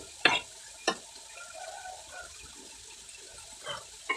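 Luffa gourd with egg being stir-fried on a gas stove: a few sharp spatula scrapes and clanks spaced apart over a faint, low sizzle, otherwise quiet.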